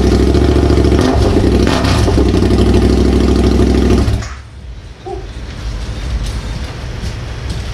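KTM 1290 Super Adventure R motorcycle engine fitted with a new aftermarket exhaust, a loud, deep rumbling idle that drops abruptly to a quieter outdoor background when the engine cuts off, with no talk.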